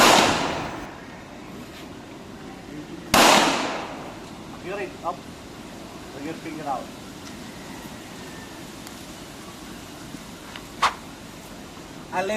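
Two sharp, loud pistol gunshots at a shooting range, from a Taurus G3, Taurus TH40 or RIA TAC, a few seconds apart, each with a broad crack and fading tail, followed by quieter scattered sounds and faint distant pops.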